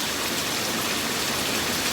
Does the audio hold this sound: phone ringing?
no